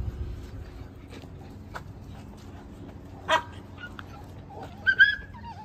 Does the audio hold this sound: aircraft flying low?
no